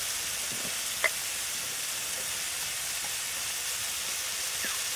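Shrimp coated with salt and turmeric sizzle on sliced ridge gourd in a hot pan, giving a soft continuous frying hiss with a few faint clinks and stirs and no voices.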